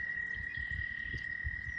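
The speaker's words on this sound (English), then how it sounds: "We got a frog, it looks like. Or toads. Those are toads." Toads croak at a nature center in spring, a steady chorus of low pulsing calls under a constant high insect-like trill, moderately close and with no talk.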